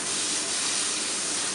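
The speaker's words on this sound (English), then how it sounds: "See, can you listen to the sizzling? The sizzling is where it's at" Sirloin steak searing fat side down in a very hot dry pan gives a steady, loud, dense sizzling hiss that holds unbroken throughout.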